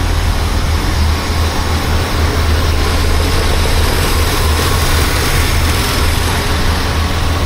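A 1976 BMW 2002 engine runs steadily on its first start after restoration, a continuous low droning hum at constant loudness with no voices.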